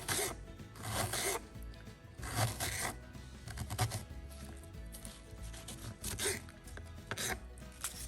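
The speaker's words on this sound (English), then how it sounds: "across the onion, we are just going to do nice thin slices" Knife slicing an onion into thin slices on a cutting board for a tomato ragu, giving a run of quick, close, repeated cuts in bursts with short pauses between them.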